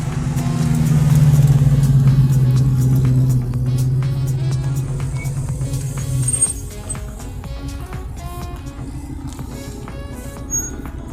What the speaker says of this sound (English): That's that Peterborough Commodore you can hear revving up there.